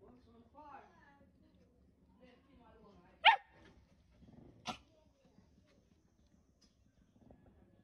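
A dog gives a couple of sharp, isolated barks amid a low growling rumble, with a person talking nearby in a quiet outdoor setting.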